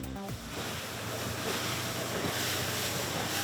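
Jet skis rumble across a river in Gapyeong, with steady wind and splashing surf filling the scene; a low engine drone persists throughout.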